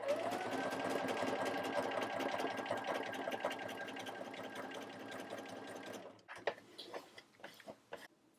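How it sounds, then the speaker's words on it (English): A sewing machine fitted with a pintuck foot runs steadily down a length of fabric for about six seconds, then stops, followed by a few scattered clicks and handling sounds. "So then I'm simply going to sew down the length of my fabric."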